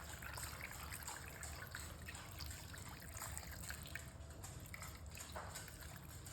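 Water poured from a half-filled jar into a crockpot holding pasta for an Italian dinner, a steady continuous trickle and gush lasting several seconds, moderately loud and close, with no talking.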